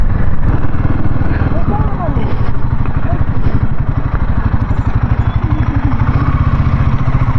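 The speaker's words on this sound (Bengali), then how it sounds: "অ্যাডভেঞ্চার করতে করতে বেরোচ্ছি আমরা 5টা বাইক নিয়ে মুরগুমা ড্যামের দিকে" A group of five Royal Enfield Himalayan motorcycles rides along a mountain road toward a dam, their engines a steady, loud, pulsing thrum that carries on without a break.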